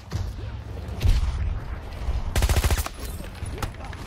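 Rapid bursts of turret gunfire in Battlefield 2042, with loud clustered volleys punctuating continuous battlefield noise and a sharp burst near the end.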